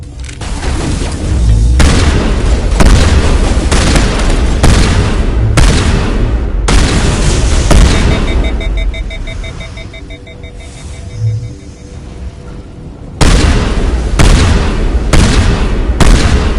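Heavy gunfire and booming explosions from a Mass Effect-style sci-fi shootout against Geth, loud and dense with rapid shots for most of the stretch, a brief lull with faint tones, then the barrage resumes.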